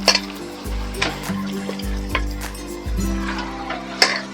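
Chicken dropped into spice masala already cooked down in oil, then stir-fried over medium gas: crackling sizzle broken by repeated spatula scrapes and clunks against the pan, with low thuds in an uneven rhythm, close and fairly loud, no one talking.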